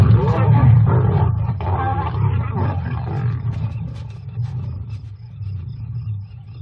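An injured older lioness roars and snarls loudly and continuously during a fight with hyenas, with overlapping growls and rumbling close by.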